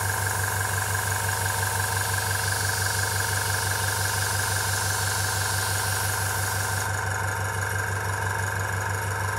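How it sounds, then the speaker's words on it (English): Small airbrush air compressor running steadily and close, a continuous motor hum with even vibration that holds throughout and shifts slightly near the end, with no talking. "I'll wait for the compressor to stop"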